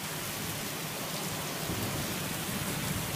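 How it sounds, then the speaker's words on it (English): Heavy monsoon-like rain mixed with small hail pours down in Colorado, a dense, continuous roar of drops hitting surfaces, steady and loud throughout. "We also have a hailstorm, guys. It's also hailing."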